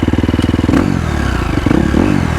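A four-stroke motorcycle engine revs hard on a hill climb at the Laxey Mines, with a rapid pulsing note, then a rough, fluttering throttle and a renewed surge, loud and close with some clatter.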